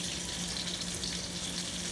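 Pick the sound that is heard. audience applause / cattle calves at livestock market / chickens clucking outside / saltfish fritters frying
saltfish fritters frying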